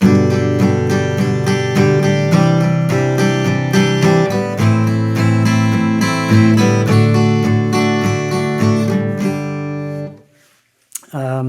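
Guitar chords strummed in a steady, even eighth-note rhythm, loud and close, stopping abruptly near the end, followed by a brief click.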